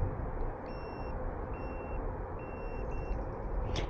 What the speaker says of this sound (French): les feux clignoteurs, ils font un son